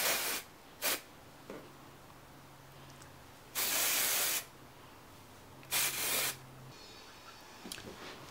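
Redken hair spray hisses in several short, close bursts aimed at the hair roots, each a broad airy spray separated by quiet gaps, with faint handling noise between them.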